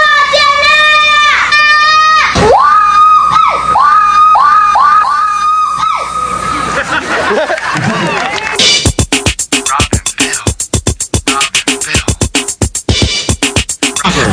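A crowd screams and cheers at a hollering contest fair, loud and sustained with shrill yells and kids' shouts, then breaking into rapid sharp claps and whoops.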